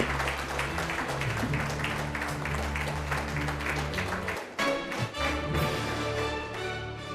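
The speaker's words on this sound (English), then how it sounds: "can we please hear it in a huge round of applause for Yes Bank at this point in time" Audience at an award ceremony during a marketing congress applauding, sustained dense clapping that briefly dips and then continues, with light crowd noise underneath.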